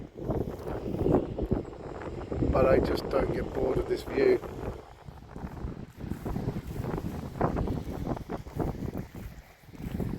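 Wind gusts buffet the microphone beside open water, a rough, fluttering rush that rises and falls while a person talks over it.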